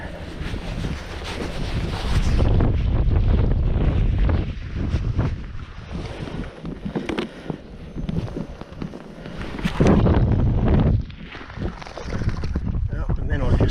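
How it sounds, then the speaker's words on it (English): Strong wind roars across an open frozen ice-fishing lake at Buffalo Lake, loud steady buffeting that swells and gusts throughout, with someone speaking intermittently under it. "That wind starts shaking it"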